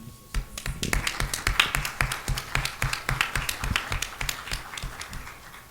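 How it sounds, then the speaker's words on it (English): An audience at a Black Male Summit during Founders Week claps together, a dense run of crisp hand claps that starts abruptly and keeps a lively, uneven rhythm for several seconds. "You guys can clap for genius."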